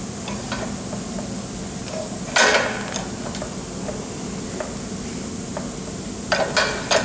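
Light metallic taps of a pin or bolt driving a broach out of a lathe pulley in a machine shop, a few scattered strikes with one sharper hit and a short burst near the end, fairly close.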